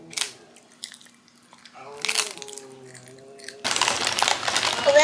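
Crunchy Jurassic Gim seaweed snack being bitten and chewed, crisp close crackles in short bursts, with children and adults talking around it.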